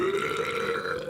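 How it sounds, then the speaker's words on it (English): One loud, drawn-out human belch, a rough, gurgling tone held for about a second, close and alone. "We can have a few burps."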